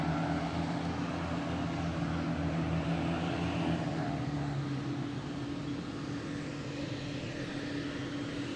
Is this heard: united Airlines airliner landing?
yes